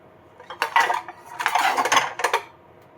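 Metal lid set onto a cooking pot of Cantonese beef brisket in a small home kitchen, giving a few bright clattering metallic knocks close by with no talk.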